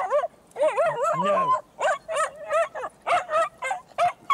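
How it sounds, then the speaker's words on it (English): An agitated dog barks and yips repeatedly at close range in an uneven burst of sharp, whiny barks, with a person's voice mixed in. "So then the barking was at me."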